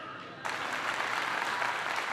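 Audience applause breaks out suddenly after a short quiet lead-in, a dense, steady wash of clapping that holds at moderate level to the end.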